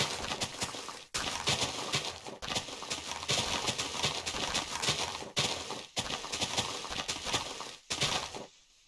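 A horse in the Minecraft video game clip-clops in steady, dense hoofbeats, loud and close, with a few brief breaks between runs of steps.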